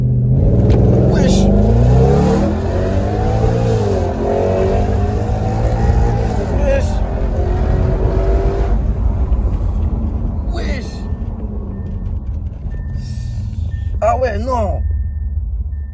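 A powerful 432-horsepower sports car engine revs and accelerates loudly, pitch climbing through gear changes, then settling into a lower rumble with brief higher revs near the end.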